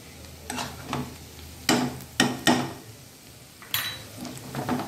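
Ginger-garlic paste with curry leaves being stirred in a pan for a potato and pea dish, a few distinct spoon scrapes and clinks against the pan over a low background, moderately close, with no talking.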